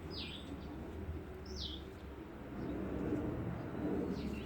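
Young pigeons in a nest give a few brief, high squeaking calls spaced across the clip, fairly faint over a steady low rumble of background noise.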